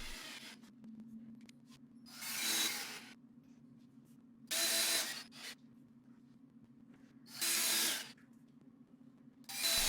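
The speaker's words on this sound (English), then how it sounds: "I drove the rest of the screws while pushing the frame tight to the wall" Short bursts from a power driver sinking screws into a wooden plantation shutter frame pressed tight against a wall, about four separate whirs spaced a couple of seconds apart, close and fairly quiet over a low steady hum.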